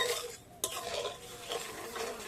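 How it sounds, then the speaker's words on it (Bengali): Spoon stirring sugar into water in a pan to dissolve it, a soft continuous scraping swirl with one sharp clink partway through, close and moderately quiet, no voices. "এবার আমি নাড়াচাড়া করে চিনিটাকে গলিয়ে নেব"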